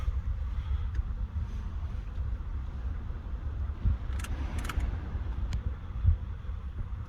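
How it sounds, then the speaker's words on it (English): A turbocharged Lexus IS300 idles through a cold start, a steady low engine rumble holding throughout at close range with a few brief higher clicks and ticks over it. "I'll get a cold start."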